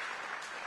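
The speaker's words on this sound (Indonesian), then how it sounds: "Tepuk tangan dong" A brief, faint burst of audience clapping at a forum on Yogyakarta's social and cultural welfare, steady and distant with no voices over it.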